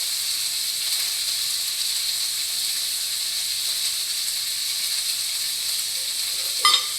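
Ginger, garlic and curry leaves fry in hot oil in a pan, giving a steady, bright sizzle that holds evenly throughout, with a small clink near the end.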